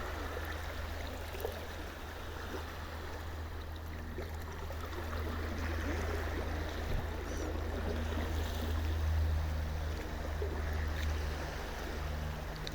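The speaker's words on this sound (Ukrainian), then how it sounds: "Отак от припливає море." North Sea waves rolling in with the incoming tide, a continuous soft wash of surf and trickling water, steady and fairly distant with no voices.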